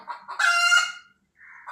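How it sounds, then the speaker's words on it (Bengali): A chicken indoors in a house gives a loud, close squawking call between short clucks, then a softer cluck after a brief pause. "যাও মুরগি আসছে যাও দৌড়াই দিয়ে আসো যাও দেখো চিল্লাচ্ছে ঘরের মধ্যে"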